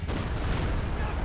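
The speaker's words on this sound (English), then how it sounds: "so let's see what the bombing run can do" A Stuka bombing run in Company of Heroes 2 fills the moment with a dense, continuous rumble of explosions and gunfire, loud and unbroken for just over a second.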